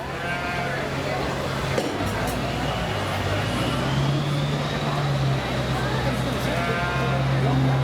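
Sheep bleat with sustained, wavering calls at a youth sheep show at the Lycoming County Fair, where yearling ewes are being shown. The calls sit under a steady crowd and arena din while an announcer talks over them.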